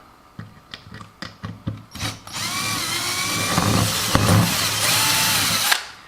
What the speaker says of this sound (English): drill in the other side